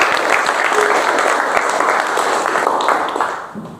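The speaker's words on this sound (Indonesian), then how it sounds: "Tepuk tangan" A classroom of students applauds during an Islamic history lesson, dense, steady clapping from many hands filling the room for several seconds before tapering off at the end.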